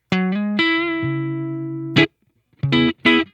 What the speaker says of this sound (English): so that would be the reverb, which is on one of the channels, sort of the patches